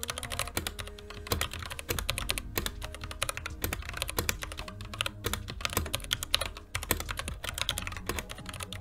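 A mechanical keyboard with heavy Black switches being typed on quickly, producing dense, irregular clacking keystrokes up close at moderate volume, with no one talking.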